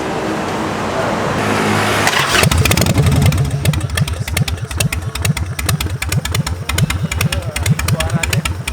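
Motorcycle engine cranks over and catches after about two seconds, then settles into a loud, lumpy idle with rapid, evenly spaced exhaust pulses, heard close and alone.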